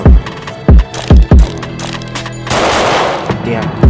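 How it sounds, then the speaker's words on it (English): Bursts of gunfire ring out in a Roblox Hood RP gang shootout, with several sharp, loud shots in quick succession followed by a rushing, noisy stretch of game sound. "Now we're shooting these boys."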